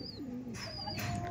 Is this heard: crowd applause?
no